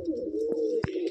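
Madrasi pigeons of an old bloodline coo steadily in a loft, a low continuous murmur with a couple of brief sharper wing or body sounds near the end, fairly close and alone.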